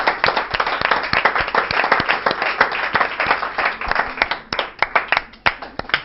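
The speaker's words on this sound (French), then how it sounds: "On applaudit bien fort, s'il vous plaît." An audience at a French anniversary stage show applauds loudly on cue, a dense wash of clapping with sharp individual claps standing out, continuous for several seconds before thinning slightly toward the end.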